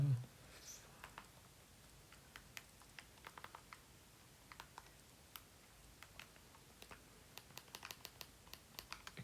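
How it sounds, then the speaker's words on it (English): Quiet, irregular clicks of calculator buttons being pressed, scattered light taps in short bursts and pauses against a faint room background, close but soft, with no talking. "You can hear the clicking of my calculator in the background."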